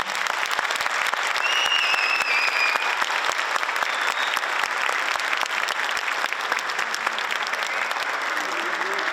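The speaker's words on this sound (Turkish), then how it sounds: "Şöyle güçlü bir alkış istiyorum kendilerine." A concert hall audience gives sustained, dense applause for the performers and their conductor at a November 10 commemorative concert, with a few faint whistles and calls rising over the steady clapping.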